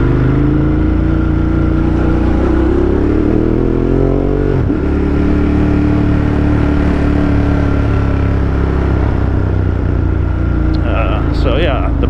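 A Ducati Monster motorcycle engine runs steadily at close range, its deep throbbing idle holding even with one brief dip and swell midway, and a few faint clinks near the end.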